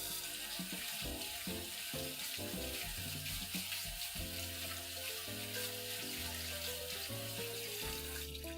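Tap water running steadily into a sink while canned food is rinsed, a continuous splashing hiss at moderate level with faint clinks and shifting tones underneath.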